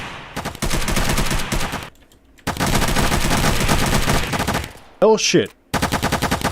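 Rapid automatic gunfire in the video game Unturned, long sustained bursts of dense shots broken by short pauses, with a brief voice exclaiming over the shooting near the end.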